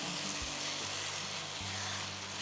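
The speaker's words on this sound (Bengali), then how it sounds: "এইবারে এটাকে ভালো করে কষাতে হবে" Tomatoes sautéing in a pan for radish mutton (muli gosht), with a steady close sizzle and two brief low thumps from stirring, and no voices.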